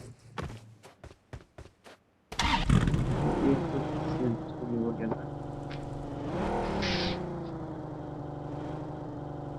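In a battle royale game, a vehicle engine starts abruptly after a few rhythmic footsteps and drives off, revving and droning steadily with pitch swells as the driver accelerates.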